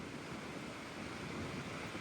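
Sea waves break and churn during a storm, a soft, distant, constant roar of surf mixed with wind, with no voices.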